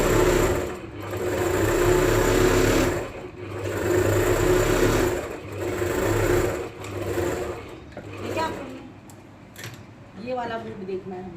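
An electric sewing machine stitches a patiala salwar in steady bursts of fast mechanical whirring, pausing briefly between runs, close and loud with faint background sounds near the end.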